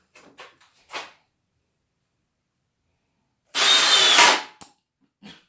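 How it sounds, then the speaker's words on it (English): A Makita cordless drill gives one short, loud whirring burst of about a second, close by, among scattered handling knocks and clicks. "As you see, the Makita kicked in. That was the clutch setting you heard."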